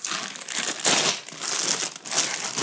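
A plastic bag of Cobi building bricks crinkles and rustles in close, loud bursts as the pieces are handled and roughly sorted.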